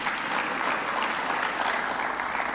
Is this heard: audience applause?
yes